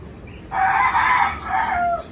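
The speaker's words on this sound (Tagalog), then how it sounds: "dito lang tayo makakarinig ng tilaok ng manok sa Taiwan kasi walang tilaok ng manok doon" A rooster crows once, a drawn-out two-part call at moderate distance over quiet outdoor background noise.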